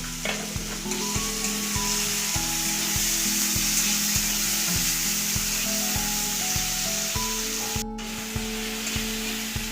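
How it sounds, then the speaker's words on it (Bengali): Thinly sliced tomato sizzling in hot oil with tempering spices for a Bengali rohu fish curry, a loud steady frying hiss with a regular scraping stir of the spatula throughout, no voices. "একটা টমেটো খুব পাতলা পাতলা করে কেটে নিয়েছি টমেটোটা দিয়ে দিলাম"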